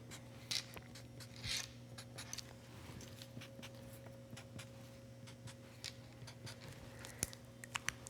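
A pen or marker scratching short hash marks across a sewing pattern for a lace insert on a tank top, heard as quiet, close scratchy strokes at an irregular rhythm over a steady low hum.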